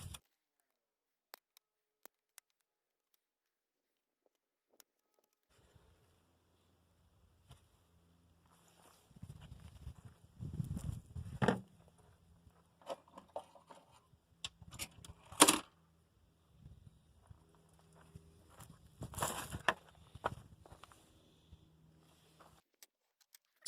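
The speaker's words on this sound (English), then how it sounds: "I'm going to cut this groove off." Small cutters snip a plastic groove off a GPU part for a case mod: quiet at first, then irregular close clicks, snaps and handling rattles in several bursts, with one sharp crack standing out.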